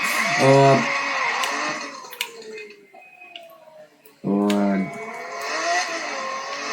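A Nissan engine in Need for Speed Most Wanted 2012 revs hard in two loud bursts separated by a quieter stretch of idle and ticking, with no talk.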